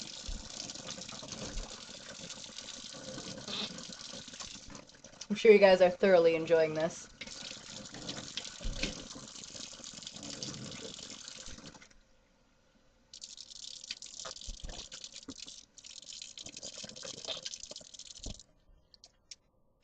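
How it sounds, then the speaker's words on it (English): Tap water running and splashing as a person rinses their mouth during ablution, a steady gushing stream that stops briefly and resumes, with a burst of gargling and spitting midway and a voice talking over it. "you put a handful of water into your mouth and rinse 3 times"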